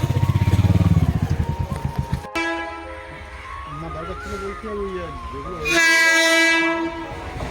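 A train passes a railway crossing gate in Bankimnagar, with a loud rumble and clatter of wagons up close that gives way to a long, sustained horn, which swells again near the end, while people talk nearby.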